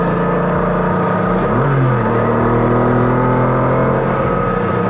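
Porsche 911 GT1 race car engine during a gear change, loud and up close: a steady roaring drone whose pitch drops briefly at the shift and then settles into a lower, sustained tone.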